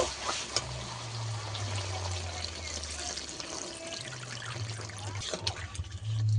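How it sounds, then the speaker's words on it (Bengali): Water poured into chicken skin curry cooking in a pan gives a faint trickling, splashing pour under a low background hum, close but quiet, ending with a brief louder rush. "এবার জল দিয়ে দেব।"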